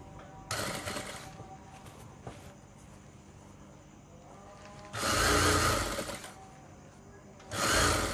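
A sewing machine stitching sofa cover fabric pieces runs in loud, close bursts of motor whirring: a short run, then two longer ones, separated by quieter stretches.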